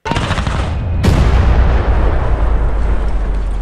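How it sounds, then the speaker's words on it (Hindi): A car packed with explosives blows apart in a sudden loud blast, set off by remote after a countdown, with a second sharp burst about a second in and then a long low rumble. "पलक झपकते ही उस कार के परखचे उड़ गए"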